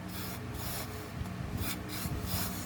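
A hand kneads sago flour into mashed potato dough seasoned with ginger, green chili, coriander and cumin paste, giving soft, close, repeated squelching and rubbing sounds in an uneven rhythm with no talking.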